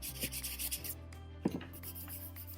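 Paper being rubbed onto an inked printing plate during printmaking gives soft, close, repeated rubbing strokes, rhythmic at first and then quieter, with one brief tap midway.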